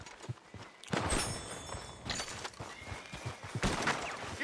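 Horse hooves clip-clop in the video game Red Dead Redemption 2, a run of uneven thuds, close and fairly loud, scattered across the clip along with other bursts of game noise.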